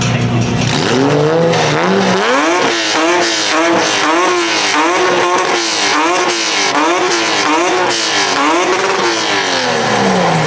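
A loud Porsche sports car engine revs hard in rapid rising and falling bursts, a throaty roar with an idle rumble underneath and faint crowd noise, at a car meet rev battle in Japan.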